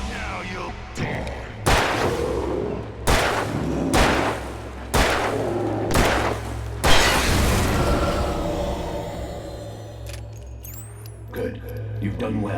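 Heavy gunshots from the video game Alan Wake, about five loud booming blasts spaced a second or so apart, each followed by a rumbling echo and then a quieter tail with faint metallic clinks.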